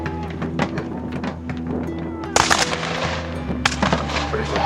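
Artillery and guns firing at an English Civil War reenactment with royalist cannon: scattered sharp outdoor reports and one loud blast partway through, over a steady low hum and crowd murmur.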